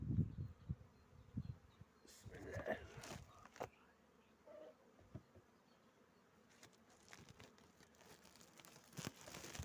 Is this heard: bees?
yes